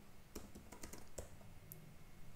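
Rapid clicking keystrokes on a computer keyboard as an npm command is typed, close and fairly quiet, an irregular patter of taps with no talking.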